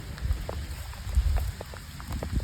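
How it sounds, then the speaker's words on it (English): Steady rain patters outdoors near horses, a donkey and a chicken coop, a soft continuous hiss with scattered droplet taps and low rumbles. "I'm outside in the rain"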